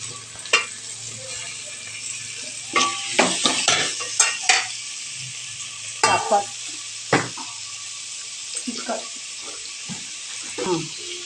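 Tomatoes stirred and frying in a pan for thakkali rasam, with a steady soft sizzle broken by clattering scrapes and clinks of a spoon against the pan in irregular bursts.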